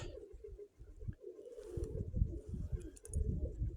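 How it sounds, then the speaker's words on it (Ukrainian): Pigeons coo softly in low, rolling calls, with faint flutters and scattered background noise around them, fairly close but not loud. "Голуби літають в небі."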